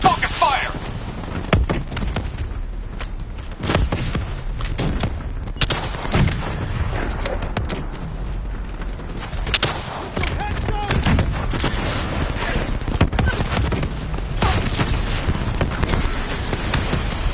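Gunfire in Call of Duty: Black Ops 3, dense volleys of shots and thuds layered with explosions throughout, loud and continuous, with game character voices speaking in between.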